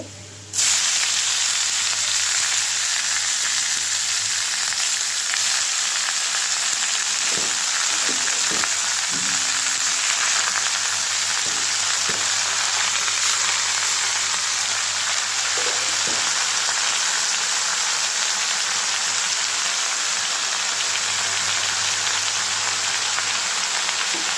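Stem amaranth greens tossed into hot oil with fried garlic and chili: a loud, dense sizzle bursts in at once and holds steady and close throughout, with a few faint knocks from stirring.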